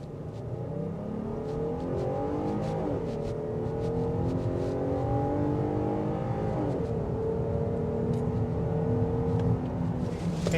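A 2025 Jeep Grand Cherokee L Summit, rated at 293 horsepower, accelerates hard from inside the cabin, its engine note climbing steadily through the gears with a shift around the midpoint, a continuous loud drone throughout.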